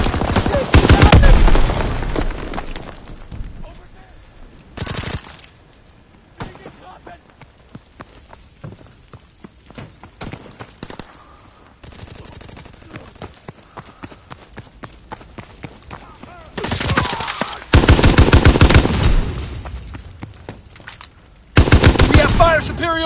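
Sustained machine gun fire rattles through a World War II video game battle, with rapid bursts and single gunshots loud and close, interrupted by louder blasts and shouted voices between volleys.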